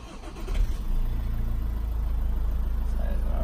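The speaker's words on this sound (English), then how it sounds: "Here, I'll start the engine for you so you can have a look." A Toyota RAV4 engine with 33,500 on the clock cranking briefly, catching, then settling into a steady, even idle close by.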